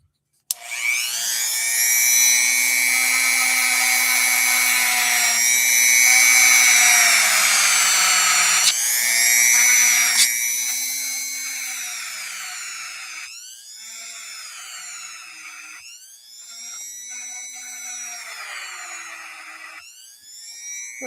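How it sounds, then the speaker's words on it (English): A Dremel rotary tool grinds off rust with a loud, close, high whine that shifts in pitch as it bears down, then continues in shorter bursts. "Make sure you have eye protection on when you're operating a Dremel tool"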